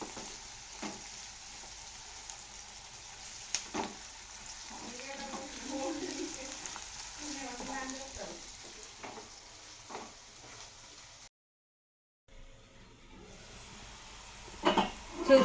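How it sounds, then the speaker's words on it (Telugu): Sliced onions fry in a pan for chicken curry, browning in oil with a soft steady sizzle and occasional stirring scrapes, briefly cutting out before resuming. "ఆనియన్ ఇట్లా మంచిగా ఫ్రై కావాలి, బ్రౌన్ కలర్లోకి ఆనియన్ రావాలి."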